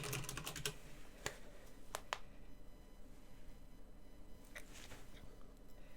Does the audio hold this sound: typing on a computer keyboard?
yes